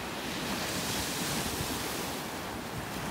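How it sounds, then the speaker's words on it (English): Waves break steadily on a small rocky beach near Velasagar on the coast, a dense, even wash of surf with light wind noise on the microphone and no speech. "This is a little rocky beach."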